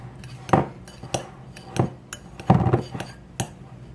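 A spoon scrapes and clinks against a bowl in several irregular strokes, close and fairly loud, as softened cauliflower is stirred; no talking.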